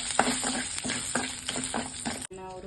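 Chana dal, urad dal and curry leaves frying in hot oil, a close sizzle broken by several quick scraping stirs of a spoon in the pan.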